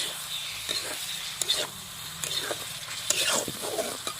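Potatoes and masala fry in a pan over a chulha while an egg curry is being cooked, giving a steady soft sizzle broken by a few stirring scrapes.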